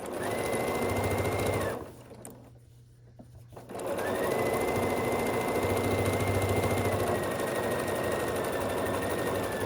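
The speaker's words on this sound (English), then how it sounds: "We're just sewing across the edge that we pinned or clipped with the 1/4 inch seam allowance" Sewing machine stitching a pillowcase seam with a 1/4 inch seam allowance, a steady close whir that stops for about two seconds partway through and then picks up again.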